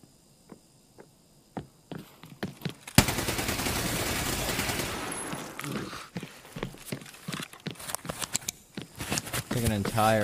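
Sustained automatic gunfire from a full magazine being emptied in a video game, a dense loud burst of roughly two seconds followed by scattered shots and footsteps, with people talking before and after.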